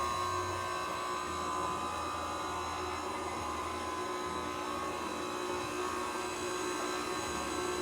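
Stand mixer beating crepe batter at speed 2, a steady motor whir with a constant hum, close and loud, running alone without pauses throughout.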